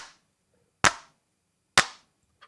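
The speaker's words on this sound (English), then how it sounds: "like just good old fashioned hand claps." Two sharp layered hand claps, bright and punchy, spaced about a second apart with a faint tap at the end, dry and alone.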